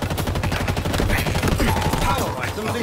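A weapon with infinite ammunition fires in rapid, continuous automatic bursts during an online match of the video game Halo Infinite. The loud, dense gunfire carries on throughout the clip with game effects layered over it.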